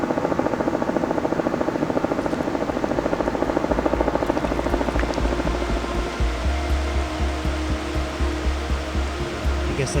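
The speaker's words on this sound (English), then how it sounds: "Helicopter." A helicopter near a glacier makes a loud, steady rotor thrum and turbine whine that begins to pulse with a rhythmic chop in the second half, close overhead and without talk.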